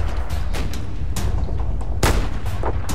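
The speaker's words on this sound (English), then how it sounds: "I'm shooting this tank" Gunfire aimed at a tank in a video game: repeated sharp, loud shots and booms in quick succession over a rumbling low battle backdrop, with no talk.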